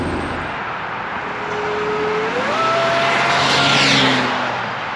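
A supercharged 3.8-liter V6 in a 1971 Ford Bronco resto-mod drives steadily, its engine note rising through a gear as it builds speed and passes close and loud, with no talking.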